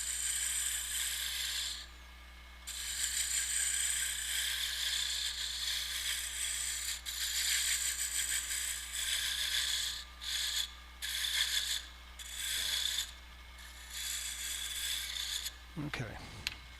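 A small gouge shearing waste from a wooden spindle turning on a lathe, a steady hissing cut over the low motor hum, broken by brief pauses as the tool lifts, close and fairly loud.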